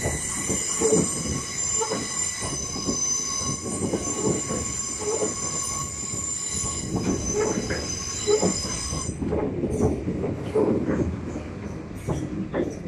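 A Class 377 electric unit pulls into Portsmouth Harbour station, its wheels squealing in high sustained tones over rumbling, clattering rolling noise that continues steadily, close and fairly loud throughout.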